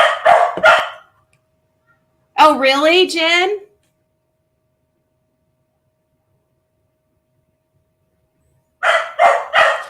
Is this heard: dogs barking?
yes